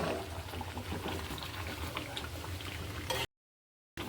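Water pouring from a vessel into chicken curry in a pan, a continuous splashing rush lasting a few seconds before cutting off abruptly, close and moderately loud.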